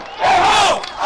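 A stadium crowd of Guarani football supporters roars out a loud, swelling chant in one brief sustained burst, dense massed voices rising together.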